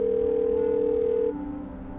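A phone call's ringback tone holds steady and loud for over a second, then cuts to a fainter tone, with no speech.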